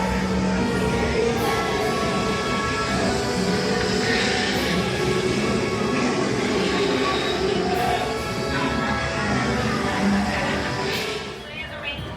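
A Disneyland ride train runs steadily with a continuous rolling rumble and faint rail noise throughout, with background voices and park ambience layered over it.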